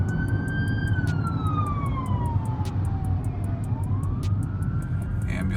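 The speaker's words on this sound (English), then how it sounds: "It seems to be like an ambulance or something. Fire truck, rather." A fire truck siren wails on a shut-down highway, its pitch sweeping slowly down and back up, moderately distant over a low rumble of road and engine noise.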